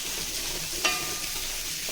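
Food sizzling and crackling steadily in a pan while cooking village-style pepper kulambu, with a brief metallic clink of a utensil partway through.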